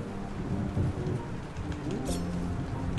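Steady rain hisses in the game Islets, a dense continuous wash with low rumbling beneath, moderately loud and unbroken, with no voices.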